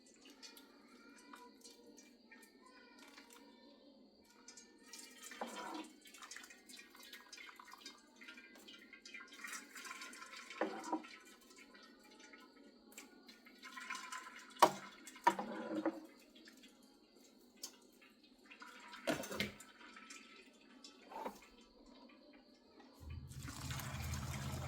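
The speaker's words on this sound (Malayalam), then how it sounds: "വെള്ളം വാർന്ന് കിട്ടാൻ വേണ്ടിയിട്ടാണ് ഇങ്ങനെ ചെയ്യുന്നത്." Water drains from boiled rice tipped into a colander while making chicken fried rice, a soft running trickle with scattered drips and occasional clattering knocks throughout.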